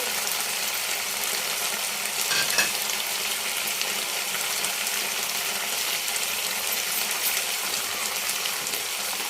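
Tomato puree goes into a pan of frying mutton curry with a steady, close sizzle and hiss, plus a brief louder spatter early on.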